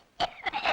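A man gives a short, harsh cough followed by a couple of rougher throat-clearing bursts, close and fairly loud in a brief burst.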